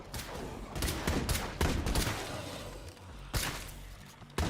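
Bursts of gunfire in the video game State of Decay, several irregular volleys at moderate distance with brief pauses between them.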